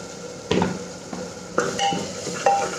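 Garam masala and coriander powder frying in a pan for chicken tehari, with a low sizzle under several sharp spoon scrapes and clinks against the metal pan, no talking.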